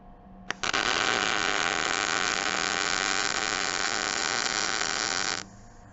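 MIG welding on clean steel, a steady loud crackling hiss that starts abruptly after a brief click, holds for about five seconds and then cuts off, with no talking.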